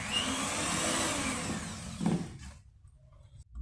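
An electric mixer whirs through Malva pudding batter with a steady high buzz that fades and stops after about two seconds, followed by quieter kitchen sounds.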